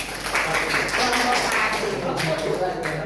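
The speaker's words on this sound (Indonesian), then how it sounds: "Tepuk tangan dulu untuk kelompok 1" Classroom applause for a student group during a science lesson: a busy wash of many hands clapping, fairly loud and steady, mixed with some chatter and noise in the room.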